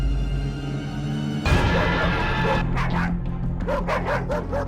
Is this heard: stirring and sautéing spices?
no